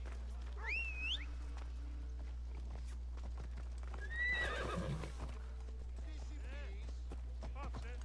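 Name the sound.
horse hooves in a video game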